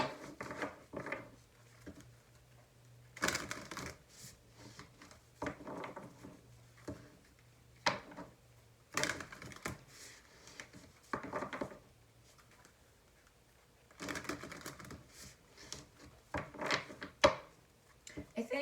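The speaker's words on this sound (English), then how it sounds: "this always happens when I'm shuffling" Spell cards from a magick deck shuffled by hand in short bursts of riffling and papery patter, spread through the stretch with quiet pauses and faint background hum between them.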